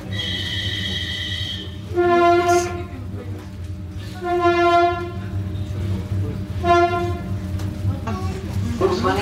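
A passenger train horn sounds three times as it approaches a station, long sustained blasts over a steady rumble of rolling train noise.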